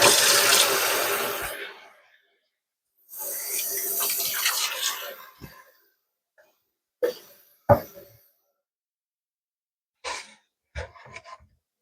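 Hot water runs from a kitchen tap into a sink to mix a cleaning solution with soap, coming in two steady rushing bursts, followed by scattered clinks and knocks.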